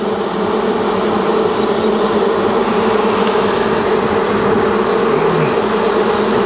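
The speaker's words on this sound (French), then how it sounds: "elles vont essayer de l'enlever en battant des ailes." Honeybees on a hive frame buzz loudly and continuously, a dense, close wing-beating drone with no pauses and no voices.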